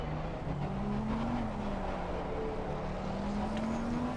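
A fast McLaren race car at the 12 Hours of Spa, a steady high engine whine holding a constant pitch with slight rises, continuous and close throughout.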